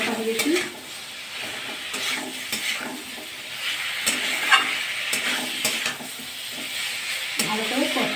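Spice masala for a rohu fish curry fries and is stirred in a pan: a steady, moderate sizzle with scraping spoon strokes and occasional utensil knocks against the metal, with faint talk in the background.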